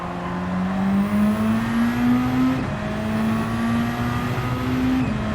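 A race car in the video game Flat Out Racing accelerates hard, its engine whine climbing steadily through the gears in two long sweeps, loud and continuous with no talk.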